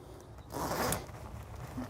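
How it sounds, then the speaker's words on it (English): A zipper on a tent camper's fabric is pulled down in one short, soft, close rasp, with quiet handling rustle before and after. "We're going to lower each of the zippers,"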